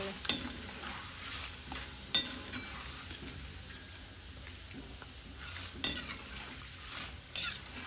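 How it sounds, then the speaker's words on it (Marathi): Corn chivda deep-frying in hot oil, a steady close sizzle with occasional stirring scrapes and clinks of a utensil against the pan. "तो आता राहिलेलाही सगळा तळून घेते पटकन तळतो"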